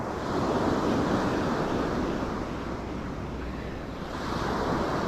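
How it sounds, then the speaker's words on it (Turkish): Steady roar of surf with waves breaking on shore during fishing, broadband and full, swelling slightly near the start and end, mixed with wind buffeting the microphone. "Yine bir dalganın azizliğine uğradık"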